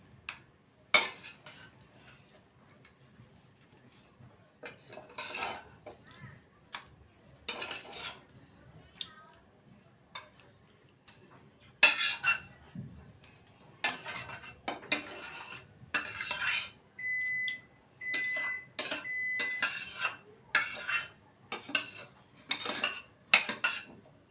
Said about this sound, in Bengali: এবার কড়াই থেকে নামিয়ে নেব সার্ভিং ডিশে